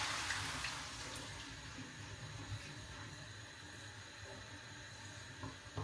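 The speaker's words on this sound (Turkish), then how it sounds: "Şimdi soğuk su kullanıyoruz." Cold water running from a tap for making revani, a steady broadband rush of flowing water held at an even level throughout, close by, with no talking.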